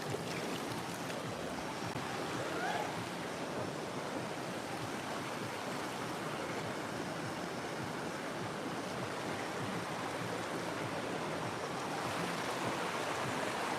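Rushing water at Pathrakkadavu waterfall, a dangerous cascade in a forested area with very cold water, gives a steady, dense roar that fills the scene without pause.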